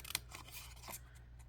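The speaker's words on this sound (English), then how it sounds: "I'm just going to use my scissors. And you're just going to cut that out to the height and the width of the word." Scissors snip through paper to cut out a greeting word for a handmade card, a few quick close cuts over a low steady hum in a quiet room.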